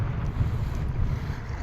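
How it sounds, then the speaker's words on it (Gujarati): Strong wind roars across a sea creek while crabs are being caught, a loud continuous low rumble of microphone buffeting with faint wave wash beneath and no talking. "આજે બહુ પવન."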